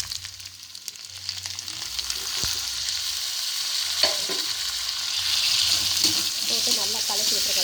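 Tomatoes fry and get stirred in a pan for an Andhra-style cauliflower pepper fry, a continuous moderate sizzle with scraping stir strokes and occasional clinks, close by, with a voice speaking faintly underneath.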